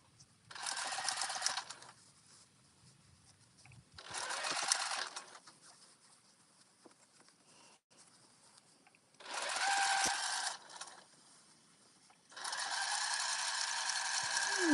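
Sewing machine topstitching around the edge of a reversible jumper, heard in four separate bursts of rapid mechanical chatter with quiet pauses between them, the last burst running longest.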